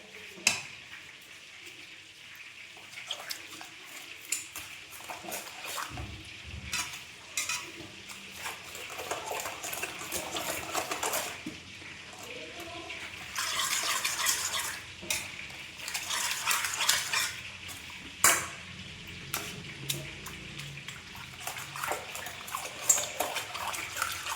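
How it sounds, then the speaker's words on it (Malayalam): Homemade wine mixture of fruit and liquid stirred in a vessel, with soft sloshing and scraping swirls and occasional clinks, fairly faint and continuous throughout. "നന്നായിട്ട് ഇളക്കി കൊടുക്കാം."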